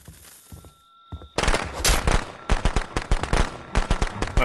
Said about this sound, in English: Those fireworks didn't hurt me, Chad.